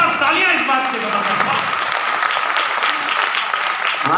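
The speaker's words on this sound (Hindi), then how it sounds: "वाह, जोरदार तालियां इस बात के लिए" An audience bursts into loud, sustained applause at a Hindi poetry recital, a steady wash of clapping lasting the whole stretch with a voice faintly underneath.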